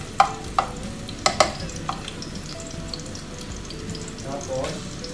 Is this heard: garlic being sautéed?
yes